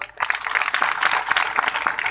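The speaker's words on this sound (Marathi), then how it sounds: "सर्व कौतुक सर्वांनी टाळ्या" Audience applause at a religious initiation ceremony, a dense, steady wash of many hands clapping continuously throughout, fairly loud and close, with no speech over it.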